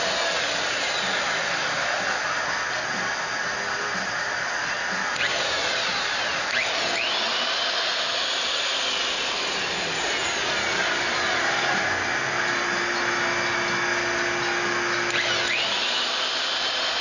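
An Algnhone machine hones the main bearing housing bores of a Subaru engine block, a loud, continuous high whirring grind that shifts pitch as the hone changes passes, with no talking.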